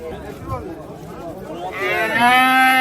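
Cattle at a livestock market give a loud, drawn-out moo that swells near the end over a steady background of crowd hubbub and farm noise.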